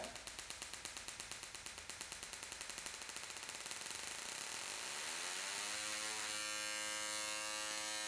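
An engine driving a CDI ignition test rig revs up, its quick ticking pulses speeding until they blend into a rising, whining tone that keeps climbing, faint and heard alone.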